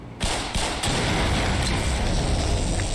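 Two automated turrets in the video game Black Mesa open up with sustained, rapid, harsh fire that starts with a few sharp bursts, then continues loud and unbroken.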